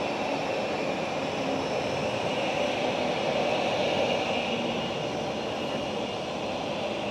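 A KLM airliner passes at Schiphol airport as a steady, moderately distant jet roar that swells slightly midway and then holds without break.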